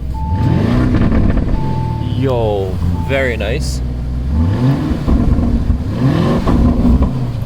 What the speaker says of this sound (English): Let's hear the exhaust, boys,